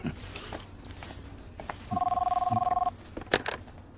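Telephone bell ringing in a room, a single burst of rapid electronic trills lasting about a second, with faint footsteps and background movement before and after.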